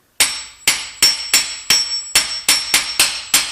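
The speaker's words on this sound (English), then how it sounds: "I'll be using a 22 mm socket which perfectly fits the pilot bearing, and I'll be slowly hammering it to push it into place" A hammer strikes a 22 mm socket nine times in a slow, steady rhythm, driving a pilot bearing into place during a clutch replacement on a BMW E39 M5. The sharp metallic blows ring close and loud, with no voices.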